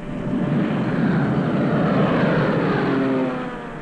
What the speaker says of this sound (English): the Allied reconnaissance planes scoured the European continent